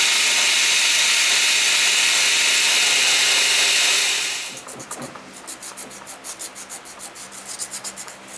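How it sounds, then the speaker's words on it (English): A loud power tool whines, then stops, followed by rhythmic strokes of sandpaper rubbing back and forth on wood, close by, hand sanding a wooden spoon. "A little bit of hand sanding just cleaned it up a bit"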